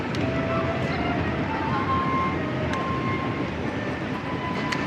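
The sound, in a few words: tram passing in Geneva street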